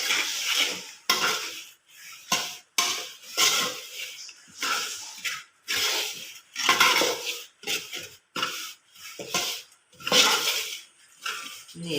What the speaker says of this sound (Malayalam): ശകലം കായപ്പൊടിയും കൂടെ ചേർത്ത് ഒന്നുകൂടെ ഒന്ന് ഇളക്കുന്നുണ്ട്